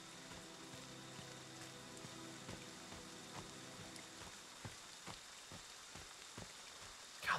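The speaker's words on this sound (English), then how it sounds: "God, this map looks so different in the rain." Rain falling in the video game Friday the 13th: a steady, soft hiss of rainfall with scattered faint drops and taps across the whole stretch, ending in a brief louder bump.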